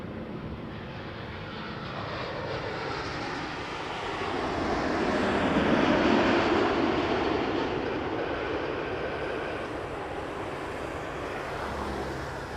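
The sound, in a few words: Boeing 787-9 Dreamliner flying overhead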